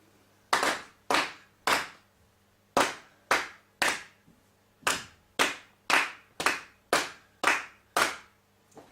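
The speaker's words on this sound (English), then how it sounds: "We'll clap it together." Sharp, close hand claps beat out a rhythm during a beginner music lesson, a teacher and pupil clapping together in separated groups of crisp slaps with short pauses between phrases, in a quiet room with no talking.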